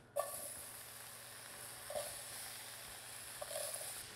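Potatoes frying in lamb fat and oil in a pan, a quiet steady sizzle with a few soft stirring scrapes at intervals, fairly faint and with no talking.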